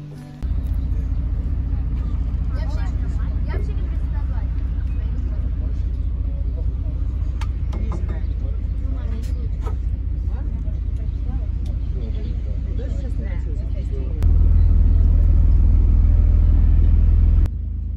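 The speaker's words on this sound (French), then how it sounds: "Et nous reprenons le ferry, direction Paella, et nous quittons Russell." Ferry engine rumbling, a loud, steady low drone that deepens and swells near the end, with faint scattered sounds over it.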